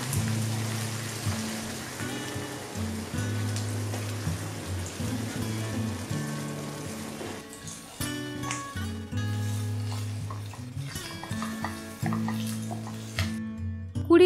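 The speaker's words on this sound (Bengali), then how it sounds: "দশ মিনিট নেড়ে চেড়ে ভেজে নিতে হবে।" Boneless lote fish stir-fried in a pan gives a continuous crackling sizzle, steady and close, partly covered by background music that grows more prominent toward the end.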